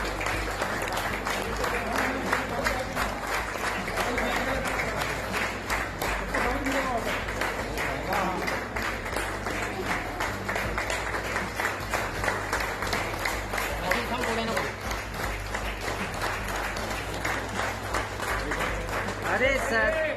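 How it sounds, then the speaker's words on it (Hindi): Railway staff and officials of a Mumbai division clap continuously to honor a railway worker who rescued a child, giving a dense, sustained round of applause with a crowd and voices talking underneath. "रेलवे विभाग ने भी तालियां बजाकर सम्मान किया"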